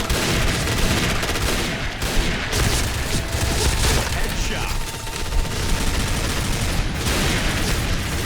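Rapid bursts of HK416 assault rifle fire in the shooter game Point Blank, with dense, loud volleys that crackle almost without a break and a few heavier booms mixed in.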